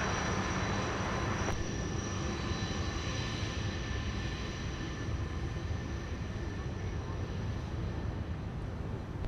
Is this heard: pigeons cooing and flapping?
no